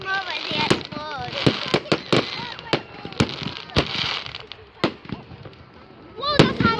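Fireworks bursting on bonfire night at a rugby club: a run of sharp, loud cracks and bangs at irregular intervals, with whistling and crackling between them and voices chatting and exclaiming throughout.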